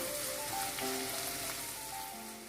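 Chopped ginger and two green chillies sizzle softly in a hot pan as they are stirred, a faint, steady crackle with no talking.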